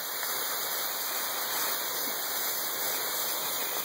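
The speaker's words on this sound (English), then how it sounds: "Got another waterfall we found." Steady broadband rush of a waterfall in a park, constant and fairly near, with no breaks or voices over the continuous water roar.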